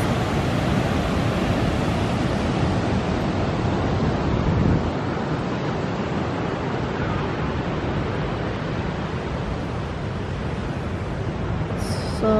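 Ocean waves break steadily on a beach in El Salvador, a continuous loud wash of surf with some wind noise and no voices.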